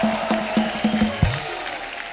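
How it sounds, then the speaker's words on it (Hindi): A studio audience on a TV comedy show applauds, with a few sharp claps and a soft crowd swell under a steady musical tone, fading after about a second. "जोरदार तालियां संगीता जी के लिए हो जाए।"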